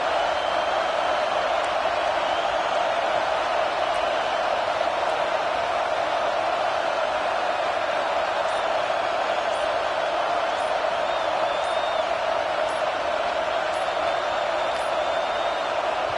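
A steady, unbroken roar from a large stadium crowd fills an Ole Miss college football game, loud and even throughout with no pauses.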